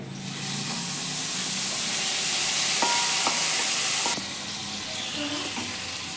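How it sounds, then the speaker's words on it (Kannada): Puliyogare gojju, a tamarind paste, being mixed in a pan, with a steady loud sizzling hiss throughout and a few faint clinks of stirring, dropping slightly in level toward the end. "ಇಷ್ಟನ್ನು ಮಿಕ್ಸ್ ಮಾಡ್ತಾ ಇದ್ದೀನಿ ಈ ಪುಳಿಯೋಗರೆ ಗೊಜ್ಜಿಗೆ ಹಾಕೋತಾ ಇದ್ದೀನಿ"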